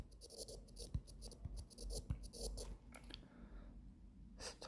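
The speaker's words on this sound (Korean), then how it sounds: "자꾸 왜 펜 쓰는 소리가 나지?" A pen scratching across paper in short strokes with small taps, quiet and close, pausing briefly before more writing.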